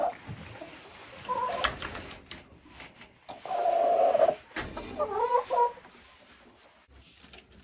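Hens in an enclosure cluck and squawk in irregular bursts, several birds close by with short sharp calls and a few longer drawn-out notes, no voices.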